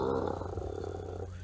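A person imitates a lion's roar with a deep, sustained throaty growl that is close and steady, lasting just over a second with no other speech.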